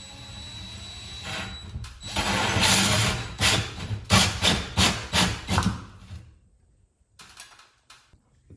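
A 3-inch hole saw on a drill cuts through sheetrock for a mini split refrigeration line, grinding in a run of rhythmic bursts that rise and stop, then falls quiet with faint handling noises.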